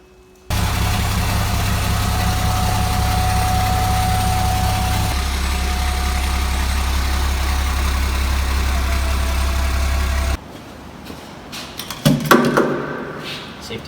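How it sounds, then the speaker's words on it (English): A Dodge dump truck engine idles steadily with a low rumbling drone for about ten seconds, then shuts off, followed by a few clanks and knocks. "First off, start the truck."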